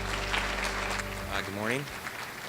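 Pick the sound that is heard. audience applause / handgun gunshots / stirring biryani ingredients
audience applause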